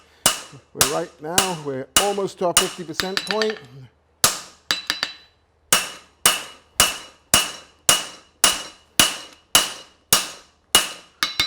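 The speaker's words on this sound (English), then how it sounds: "Adjust your hammer blow depending on the temperature." Steady, evenly spaced hammer blows ring out as a caulk and feather horseshoe is forged, a dozen or more sharp metallic strikes about half a second apart; a voice talks over the first few blows.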